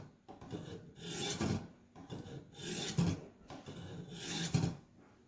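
A Kabar knife drawn across a Warthog knife sharpener, three long rasping grinding strokes in an even rhythm, close and fairly loud with short pauses between passes.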